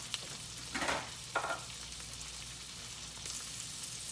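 Chopped onion dropped into hot butter in a home Southern kitchen, giving two short bursts of sizzling near the start that settle into a quiet, steady fry with no talking.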